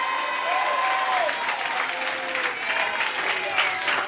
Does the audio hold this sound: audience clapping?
yes